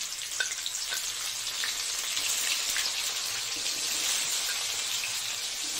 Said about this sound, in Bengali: একটু ভেজে নিই, আরও একটা সবজি দেবো